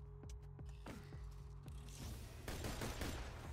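Rapid gunfire from a large-magazine gun in Borderlands 2, with sharp repeated shots at first, then a denser, louder burst of continuous firing toward the end.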